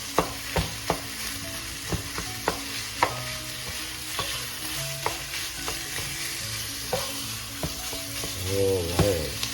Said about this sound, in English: We're gonna saute this ground pork until it's pretty much done.